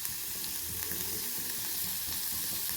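Ridge gourd pieces sizzle gently in a pan with spices, a soft, continuous frying hiss with faint stirring, heard up close and without talk.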